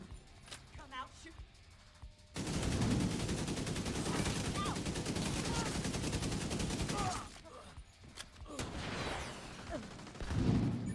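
Sustained automatic gunfire in The Division video game, a dense loud burst of rapid shots lasting several seconds, then quieter stretches with scattered shots and a final flurry, with voices talking over the fighting.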